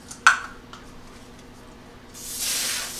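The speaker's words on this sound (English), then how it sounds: "the spray, to spray my pan" Cooking spray hits a pan: after a brief metallic clink, a steady hiss of spray lasts about a second near the end, loud and close, with no one talking.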